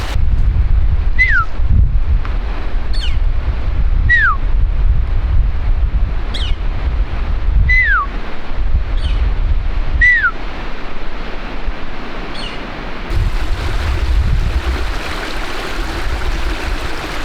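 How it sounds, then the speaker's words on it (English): Strong wind roars and buffets the microphone continuously, with rushing water or surf underneath and a few high chirping whistles scattered throughout. "That's how windy it is."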